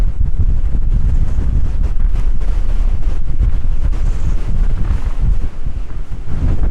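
Strong wind gusting through a castle archway over grass, a loud, constant roaring buffet against the microphone with no letup.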